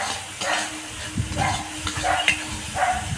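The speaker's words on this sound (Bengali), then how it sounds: "এই মশলাটাকে আমি সুন্দর করে কষে নেব" Spice masala of salt, turmeric and Kashmiri chilli powder fries in a pan for shol fish kalia, with intermittent scraping stirs over a low sizzle, close and moderately loud.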